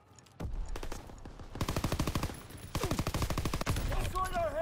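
Rapid bursts of battlefield machine gun fire rattle in loud, repeated volleys, with short pauses between strings of shots and a voice briefly heard amid the firing.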